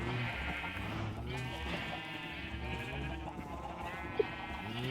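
Sheep bleat repeatedly at close range, their wavering harmonic cries overlapping one another and filling the whole stretch with barely any pause.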